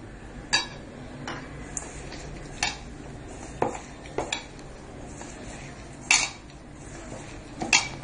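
Sesame cookie dough being stirred with milk in a heated pan, with irregular scrapes and sharp metallic clinks of a spoon against the pan at uneven intervals, close up with no talking.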